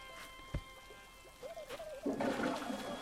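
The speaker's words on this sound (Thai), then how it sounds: "มีการกดชักโครกให้เรียบร้อย" A toilet flushes inside a basement bathroom in Animal Crossing: New Horizons, a faint click followed by a brief gurgling, swirling rush of water that rises and trails off, quiet and alone.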